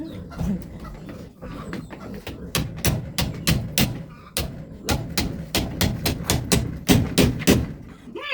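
Hammer blows ring out in steady, rapid succession at a blacksmith's forge, sharp metallic strikes close and loud, with a faint voice and other background noise under the pounding.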